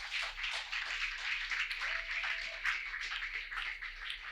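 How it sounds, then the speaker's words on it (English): Conference audience applause from a networking session crowd: dense, steady clapping that holds at an even level for several seconds, filling the room without any speech over it. "I think he deserves a round of applause."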